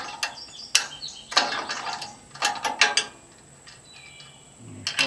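Metallic ratchet clicks and wrench turns loosening bolts on a Woodmizer LX150 sawmill, in short close bursts separated by pauses, with faint birdsong outdoors.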